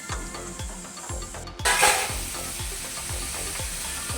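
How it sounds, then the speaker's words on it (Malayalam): Masala paste for a prawn biryani sizzles in a pan while a spoon stirs it in a regular scraping rhythm, close up and steady, with a brief louder hiss of steam partway through. "പേസ്റ്റ് പരുവത്തിൽ വഴറ്റിയെടുക്കാം."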